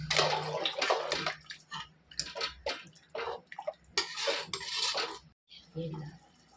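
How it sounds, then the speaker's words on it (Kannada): Water poured into a pot of spiced masala for pulao splashes in uneven bursts, with pot and utensil clinks mixed in, close and fairly loud. "ನೀರು ಹಾಕ್ತಾಯಿದ್ದೀನಿ."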